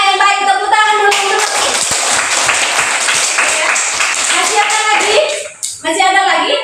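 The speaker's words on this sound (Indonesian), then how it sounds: "Tepuk tangan dulu" Pupils in a classroom clap together during a group discussion lesson, a loud, fairly rhythmic round of many small hands, with voices heard before and after the clapping.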